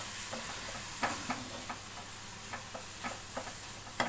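Spicy mutton chukka frying dry in a pan, a faint steady sizzle with soft, occasional ticks and taps of stirring scattered through it.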